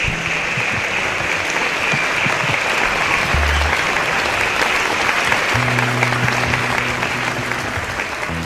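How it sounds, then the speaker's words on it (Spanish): A concert audience breaks into strong, sustained applause, a dense wash of clapping at constant loudness, with faint low tones from the stage sound system underneath. "lo recibimos con un fuerte aplauso"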